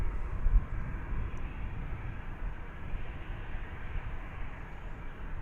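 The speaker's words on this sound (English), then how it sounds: "This one is Flight 2379. Headed to the city adjacent to the bay, San Francisco, an Airbus A321." An Airbus A321 on Flight 2379 to San Francisco at Dallas Fort Worth airport gives a steady, moderately distant roar of jet engines. The broad rumble holds level throughout with no talk over it.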